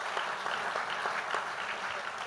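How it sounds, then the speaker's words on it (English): An audience applauds a discussion panel, steady, even clapping filling the room throughout at moderate level with no talking over it. "I just want to give a round of applause to them"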